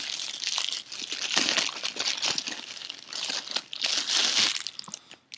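A ShengShou 8x8 puzzle cube is pulled free of its packaging tape, giving loud, steady crinkling and crunching with brief pauses, close up and with no talk.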